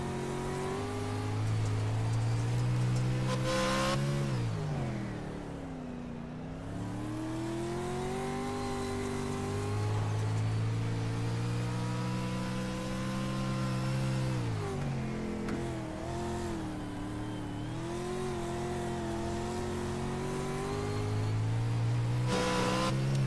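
Onboard sound from the number 9 racing truck at Weedsport, its engine roaring loud and close as it revs up and down through repeated gear changes and corners, with no talk over it.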